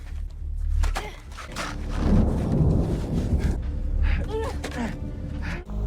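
Deep rolling thunder rumbles through, with a rushing wash of rain building in the middle and a few faint voices underneath.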